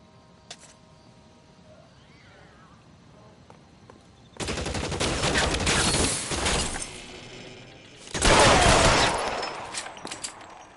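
Bursts of automatic and single-shot gunfire from the crime video game L.A. Noire, two loud sustained volleys separated by a short lull, with a faint earlier shot.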